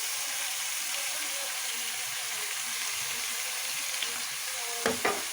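Steady, soft sizzle of chicken frying in a pan for kabsa as spices go in, with a couple of brief stirring clatters near the end and no talking.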